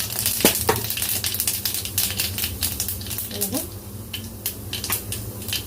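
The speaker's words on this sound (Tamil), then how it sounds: "எண்ணெய் சூடானதும் 1 ஸ்பூன் கடுகு, கொஞ்சமாக தாளிக்கிற உளுத்தம்பருப்பு." Sharp, irregular crackles and pops of mustard seeds spluttering in hot oil over a steady sizzle, close by.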